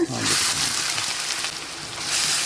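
Sliced onions dropped into refined oil heating in a kadai for channa masala, giving a broad, steady sizzle with a brief louder splash of hissing at the start, close and continuous with no talk.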